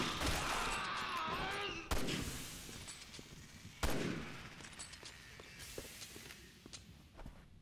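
Gunfire in Resident Evil 6 rings out in three sharp, loud reports spaced about two seconds apart, each trailing into echoing decay amid a busy layer of footsteps and faint clatter.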